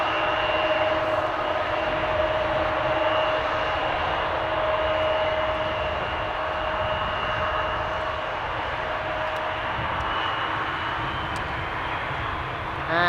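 A twin-engine jet at Amsterdam Schiphol Airport produces a steady broad roar with faint whining tones, loud and continuous throughout with no voices.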